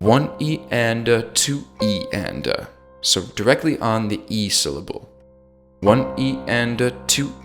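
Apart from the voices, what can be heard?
No everyday noises stand out.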